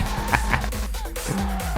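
Drifting car in the game FR Legends, a Honda Jazz: a steady engine drone with squealing, sliding tire noise running continuously through the short stretch, loud and close, with no talk.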